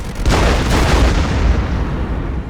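Explosion in the Warfare Legacy Collection video game, a single heavy, loud boom with a rumbling low tail that rolls on for a couple of seconds before easing off.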